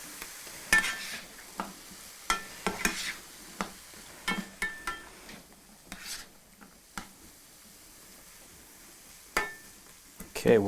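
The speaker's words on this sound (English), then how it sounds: "I personally like to put just a little bit of water in there, just so they have a little bit of a sautéing to them" Vegetables sauté in a pan with a little water, giving a soft, low sizzle broken by frequent light clinks and scrapes as they are stirred. The sound is close and fairly quiet.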